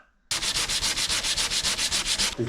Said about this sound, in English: I can start smoothing out the top section of this bumper